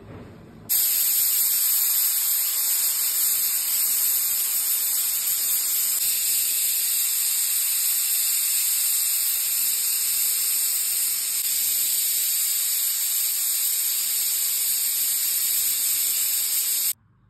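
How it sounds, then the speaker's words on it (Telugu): A pressure cooker on the stove, cooking a ridge gourd onion curry, gives a long steady loud hiss of escaping steam with a high whistling tone, running unbroken for about sixteen seconds with no talk. "కుక్కర్ మూత పెట్టేసి ఒక 3 విజిల్స్ కొట్టించేద్దాం"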